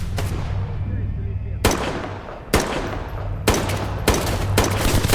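Rifle fire with armor-piercing rounds in a free survival video game: four or five loud, close, sharp shots at irregular intervals over a steady low rumble, with faint talk in the background.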